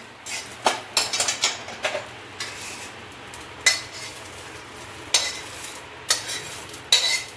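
Garlic roasting in a pan for chutney is stirred with a metal spoon, giving a series of sharp scraping clinks against the pan over a faint sizzle, close and without talk.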